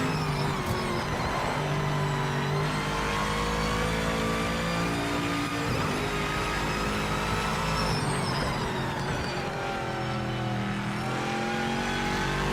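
Mercedes AMG race car engine revving hard in the racing game Project Motor Racing, a continuous loud harmonic drone that rises and falls with the gear changes and never lets up.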